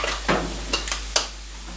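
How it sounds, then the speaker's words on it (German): Minced meat and vegetable sauce sizzling and frying in a pan, with a few sharp stirring scrapes against the pan over a steady close crackle. "ich lasse jetzt hier erstmal alles ein bisschen brutzeln"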